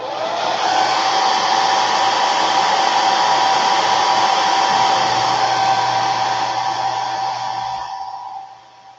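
A hair dryer drying paint on a wood garden flag blows with a loud, steady whirring hiss that runs continuously, then cuts off at the end.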